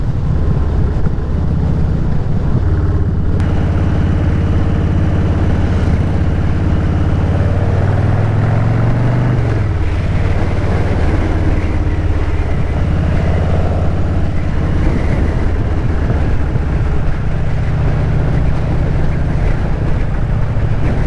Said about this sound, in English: I'm excited to have some volume on this motorcycle now